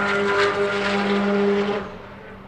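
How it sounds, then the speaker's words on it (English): A time attack race car's engine screams at full throttle on a banked track, a loud sustained high-pitched note that fades away after about two seconds. "Car sounds a lot better out there."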